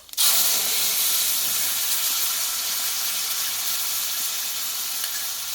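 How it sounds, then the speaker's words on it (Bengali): Panch phoron spices sizzle in hot oil in a kadai, a loud steady frying hiss that starts abruptly and holds evenly throughout with no voices. "এই কড়াইয়ে দিয়ে দেবো আর একটু আমি তেল আর দেবো একটু পাঁচফোড়ন"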